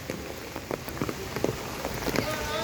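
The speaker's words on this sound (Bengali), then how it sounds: "বন্ধুরা, প্রচুর পরিমাণ বৃষ্টি হচ্ছিল।" Heavy rain pouring outside a mosque after Friday prayers, a steady close patter with scattered louder drops and splashes hitting surfaces throughout.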